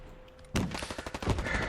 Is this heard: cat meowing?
no